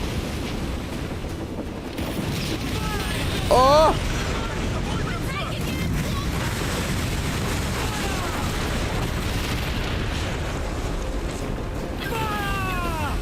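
Naval cannon fire in Assassin's Creed Black Flag, deep booms and rumbling impacts layered over surging sea waves and wind, loud throughout, while a player exclaims and talks over it.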